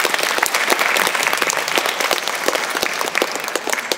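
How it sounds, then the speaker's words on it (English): Audience at a photography talk breaks into sustained applause, dense and loud, with many hands clapping close and continuously throughout. "please join me in a round of applause for this amazing."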